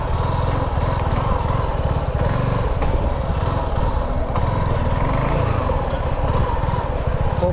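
A Suzuki V-Strom 250 motorcycle engine runs steadily and loudly up close on a test ride in Indonesia, a continuous throbbing drone with no talking over it.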